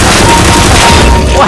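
Loud, close rapid gunfire from a shooting video game, a dense continuous burst of automatic shots, with voices partly mixed in.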